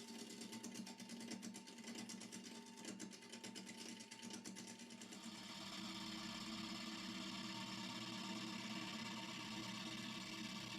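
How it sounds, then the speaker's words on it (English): Wood lathe spinning a rare wood blank being rough-turned toward a cylinder, a steady mid-level motor whir with a scraping, chattering cut that smooths into an even hum partway through. "you can turn the speed up on the lathe"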